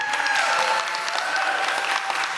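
At a spring student showcase, an audience breaks into dense, sustained applause, a loud, even roar of many hands clapping together, with no speech over it.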